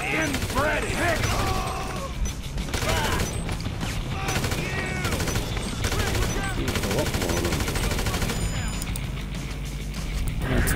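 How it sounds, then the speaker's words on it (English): Rapid automatic gunfire from a first-person shootout in GTA V, dense and loud, with bursts running almost continuously for about eleven seconds over game sounds and a steady low rumble. "Well, I really riddled him full of bullets, didn't I?"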